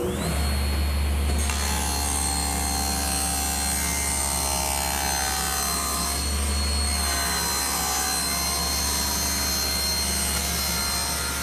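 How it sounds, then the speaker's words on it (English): A power saw rips a piece of decking into thin splines one inch wide and a quarter inch thick, its loud continuous whine and blade roar running close and steady throughout. "I'll rip those out of a piece of decking, 1 inch wide and 1/4 inch thick."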